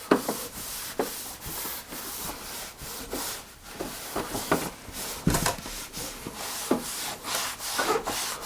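Microfiber cloth wiping down computer case parts during PC cleaning, a series of soft, close rubbing strokes in an uneven rhythm, quiet, with no voices.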